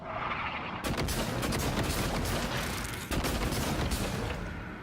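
Rapid gunfire in the video game Prey (2017), a dense and loud stream of shots with no pauses, heard close over sharp bursts of impact noise.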